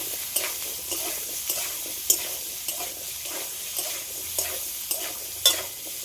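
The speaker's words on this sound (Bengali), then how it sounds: "হলুদের গুঁড়ো আর এই আলুটা একটু লাল লাল করে ভেজে নেব" Potatoes frying in a pan with turmeric powder, a spatula scraping through them in regular strokes about every half second over a steady, soft sizzle, close by with no talking.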